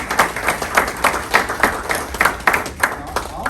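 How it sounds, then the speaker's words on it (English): Applause at a family gathering for the event organizers: a fairly small group clapping in a loose, uneven rhythm, moderately loud and close. "And I think we ought to give them a round of applause"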